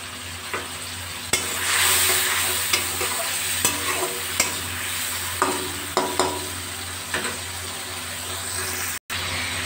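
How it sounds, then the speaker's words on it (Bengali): A wet spice mixture of cumin, coriander powder, salt and turmeric fries over a raised gas flame for doi potol, a bright continuous sizzle with occasional spoon taps and scrapes against the pan, close and fairly loud. "মশলাটা ভাজা হয়ে গেছে"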